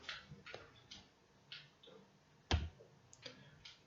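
Keys on a computer keyboard clicked one at a time in a quiet room, sparse irregular taps with one sharper, louder strike near the middle.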